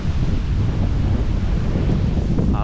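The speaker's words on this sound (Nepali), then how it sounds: "हावा चलिरहेछ" Steady wind buffets the microphone outdoors in a botanic garden, a constant loud rumbling gust with no break across the whole stretch.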